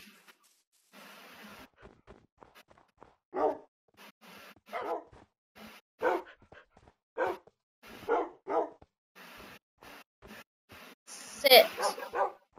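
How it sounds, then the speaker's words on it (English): Dogs barking in Minecraft, a string of separate bark bursts spaced every second or so, with a louder cluster near the end, while someone talks over the game audio. "Where's the other dog?"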